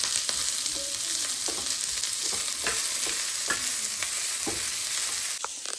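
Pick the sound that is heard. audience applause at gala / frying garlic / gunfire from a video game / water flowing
frying garlic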